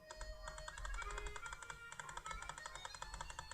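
Rapid key presses on a Casio fx-991LACW scientific calculator, a busy run of small clicky taps in quick, uneven succession, close and fairly quiet, with no talking.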